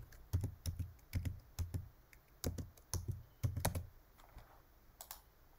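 Keys clack on a computer keyboard as a password and short text are typed, a quiet, close run of separate taps in an uneven rhythm with small pauses between keystrokes.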